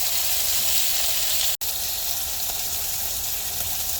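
Vegetables and mushrooms sautéing in a pan, a steady broadband hiss of sizzling oil close by with a brief cut of silence partway through, no voices.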